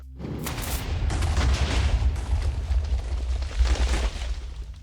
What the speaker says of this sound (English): the TNT minecart explodes instantly upon impact